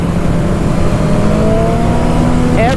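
Motorcycle engine at steady high load as the throttle is twisted, a loud continuous drone with rising harmonics sweeping upward in pitch, close and alone with no talk.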